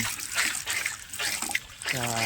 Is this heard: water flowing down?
yes